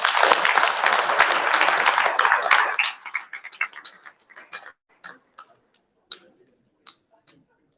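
Conference audience applauds, a dense burst of clapping for about three seconds that thins into scattered, sparse claps fading out, with no talk over it.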